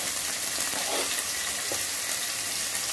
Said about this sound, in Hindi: प्याज लहसुन हल्का सा भून चुका है, इसमें मैं चॉप किया हुआ 1 कैप्सिकम ऐड कर दूंगी